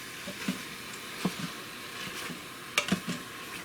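Meat searing in an Instant Pot for Philly cheesesteak sloppy joes, with peppers steaming nearby, gives a soft low sizzle broken by a few quiet stirring scrapes and clicks.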